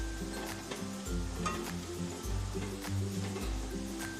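Fenugreek, cumin, ground black pepper and turmeric sizzle in a pan for a coastal Karnataka crab sukka, a steady soft frying hiss running under louder background music.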